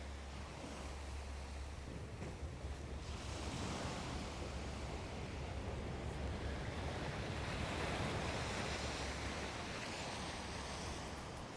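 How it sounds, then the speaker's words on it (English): Ocean waves crash and wash onto an empty beach in a continuous soft roar, swelling and receding gently with some wind noise, no voices. "the waves crash on an empty beach"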